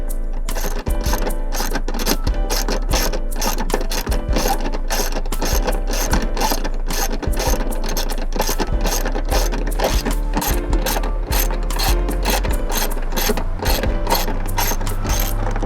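Ratchet with an extension loosening a bolt counterclockwise during a stealth subwoofer box install in a 2019 Ford Flex SEL, rapid continuous clicking that goes on steadily at close range.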